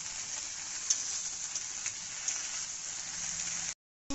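Okra cooks in a pan with mustard paste, giving a continuous, even sizzle close by that drops out abruptly for a moment just before the end.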